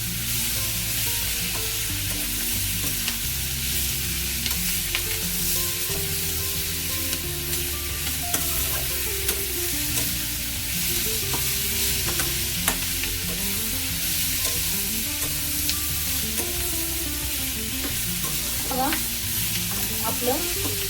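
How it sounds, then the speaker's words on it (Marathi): Garlic sizzles and crackles steadily in a hot pan while a spoon stirs and scrapes through it, cooking for a hotel-style matar paneer gravy; loud, continuous frying with no voices. "आणि लसूण बघा, हे बघा कसं मस्त परतून घ्यायचं आहे आपल्याला छानपैकी"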